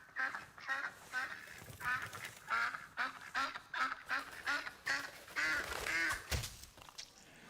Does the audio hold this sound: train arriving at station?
no